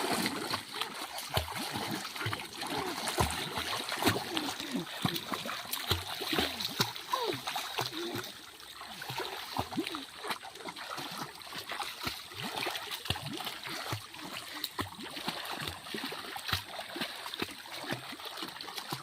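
Someone swims in a pond, with steady, soft splashing and dribbling water close by, continuous and unhurried throughout.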